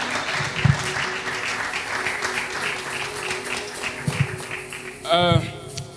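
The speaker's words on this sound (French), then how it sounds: "Est-ce que nous pouvons acclamer quand même la parole de Dieu, la parole de Dieu?" Congregation at a church service applauding, sustained dense clapping from many hands with a voice audible near the end.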